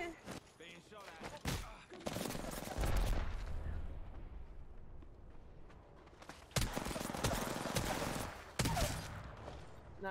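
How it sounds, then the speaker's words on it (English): Video game gunfire in a multiplayer firefight: repeated sharp shots and rapid bursts crackle loudly at the start and again near the end, with a steadier barrage rumbling between them. "Being shot at."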